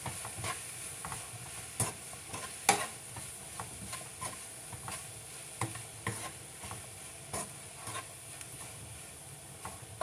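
Seasoned ingredients with pepper are mixed together while cooking green plantain empanadillas, giving a rhythm of sharp spoon taps and scrapes close by over a faint background hiss.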